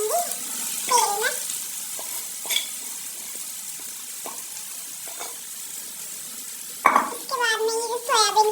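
Soybean chunks are dropped into hot oil and fry with a steady sizzle. A spatula clinks against the pan at intervals, and a voice rises briefly near the end.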